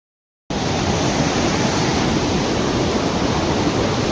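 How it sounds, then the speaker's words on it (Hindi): A swollen mountain river rushes along the Amarnath Yatra pilgrimage route, a loud, steady, close roar of churning water that bursts in after a moment of silence and holds without letup. "पानी का इतना बहाव है, अगर इसमें कोई भी गिर गया ना बिना मरे बचेगा नहीं इसमें।"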